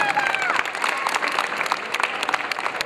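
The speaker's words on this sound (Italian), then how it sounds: "ancora l'applauso, sottolineiamolo" Sustained, lively applause fills a hall at a Sicilian beauty queen's tour event in Ragusa, dense clapping with a few whistles and crowd noise mixed in.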